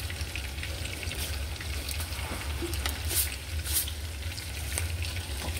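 Bitter melon frying in a pan, a steady close sizzle and crackle running throughout with a few brief louder spits, while a voice speaks over it.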